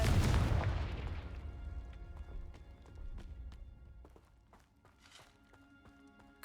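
A Confringo spell blast in Hogwarts Legacy: a loud booming explosion that rumbles and fades, followed by scattered clattering debris impacts and faint game ambience.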